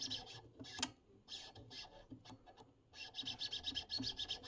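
A high precision potentiometer inside a 1968 Fluke 891A DC differential voltmeter being turned, giving a close, quiet, raspy scraping and clicking with irregular bursts, no talk over it.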